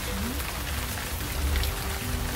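Monsoon rain pours steadily in the Himachal mountains, a dense, even hiss of drops striking nearby surfaces with no break and no talk.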